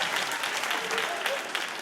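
A studio audience at a television interview special gives dense, continuous applause that stays fairly even and loud for the whole short stretch.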